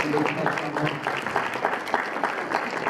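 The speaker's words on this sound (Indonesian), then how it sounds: "tolong berikan tepuk tangan yang meriah." Audience applause at an official visit by the Selangor Chief Minister's delegation, a dense, steady burst of many hands clapping for about three seconds at moderate loudness, with a voice speaking over it.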